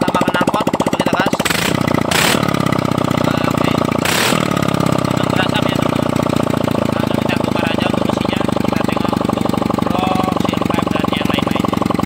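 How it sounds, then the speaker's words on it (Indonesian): A motorcycle engine running with its exhaust removed, a loud raw continuous roar with a few sharp throttle blips early on, close up and dominating the whole stretch. "Ini kita hidupkan tanpa knalpot, coba kita gas."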